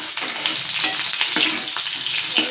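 Green chilli, ginger and garlic fry in a hot pan for paneer masala, with a loud, close, continuous sizzle and brief stirring scrapes.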